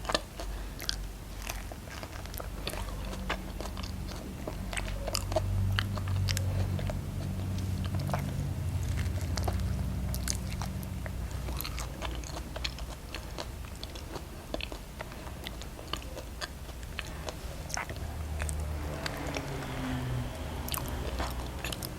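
Someone eats Puangmanee durian, a small-fruited Thai durian variety, with soft chewing and occasional crisp bites throughout, close to the microphone and without talk.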